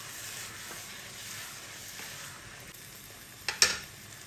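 Prawn biryani masala with yogurt just added is stirred in a pan, giving a soft, steady sizzling hiss, then a brief scrape and clink of the spoon near the end.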